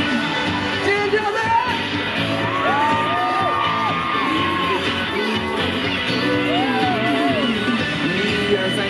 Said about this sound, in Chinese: 走直到哪，我就要听到尖叫声